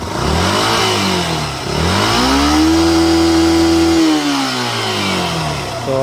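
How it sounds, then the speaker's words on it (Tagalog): A carbureted Yamaha SZ16 motorcycle fitted with a Beast racing CDI revs hard, climbing toward 10,000 RPM. A short rev rises and drops, then a long high wail holds before falling back to idle, loud and close with no talk. "So susubukan natin i-revolution kung hanggang saan yung RPM niya."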